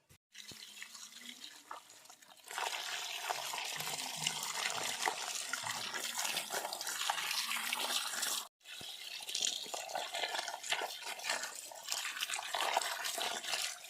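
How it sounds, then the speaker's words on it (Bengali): Freshly cut koi fish being rinsed, with running water splashing and sloshing in a basin, hands swishing the pieces in continuous close bursts and a brief pause partway through. "সব মাছ কাটা হয়ে গেছে এবার ভালো করে ধুয়ে পরিষ্কার করে নিয়ে আসি"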